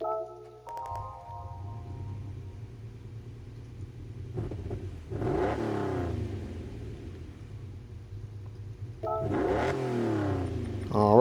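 A 1988 Lamborghini Countach 25th Anniversary engine in Gran Turismo 7 cranks and fires up, then revs twice in loud rising surges several seconds apart over a steady idle rumble, after a brief menu chime.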